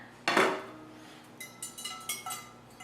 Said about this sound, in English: Let's open up our fryer here.